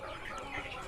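KUB chickens clucking in an open-air coop, a soft steady background of low hen chatter with a few brief higher calls over constant farmyard noise, no speech.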